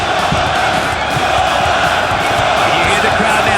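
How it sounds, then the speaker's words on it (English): A loud, continuous roar of a live MMA crowd urging on fighter Fedor Emelianenko in Russia, with shouts and cheers blending into a dense, steady wall of noise throughout. "You hear the crowd now urging on their living legend, Fedor Emelianenko"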